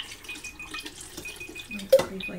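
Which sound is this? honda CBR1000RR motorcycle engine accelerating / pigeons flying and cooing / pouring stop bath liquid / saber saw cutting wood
pouring stop bath liquid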